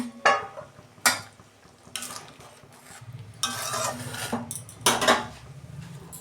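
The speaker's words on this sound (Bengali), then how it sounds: "এই যে ঢাকনা খুলছি" A lid is lifted off a pot of Bengali fish curry, giving a few sharp metallic clanks and scrapes spaced irregularly over a quiet background, with a soft simmering hiss between them.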